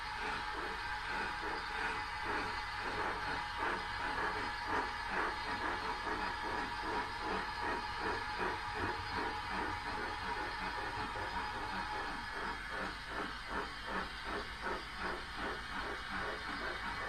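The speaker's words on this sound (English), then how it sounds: "Two locos just passing each" Two model railway locomotives pass each other on a layout, a steady hissing, rhythmic clattering hum that stays even and fairly quiet throughout.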